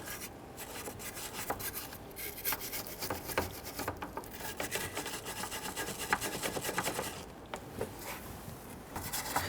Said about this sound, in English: I'm just going to use my bristle brush and clean that surface.